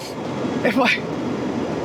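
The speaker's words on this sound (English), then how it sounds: "Here comes the train just in time. It's a 125." An InterCity 125 train passes on the Forth Bridge, a steady rumbling rush from rail traffic heard from the top of a pier, with someone briefly talking over it.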